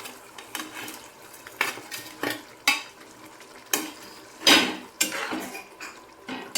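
Fried paneer goes into boiling gravy in a pan, bringing a series of separate metallic clinks and scrapes of a spoon against cookware, some louder than others, over a faint simmer with no talking.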